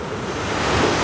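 Sea waves wash onto a Black Sea beach at Golubitskaya after a storm, a loud, continuous roar of surf close by, mixed with gusting wind noise.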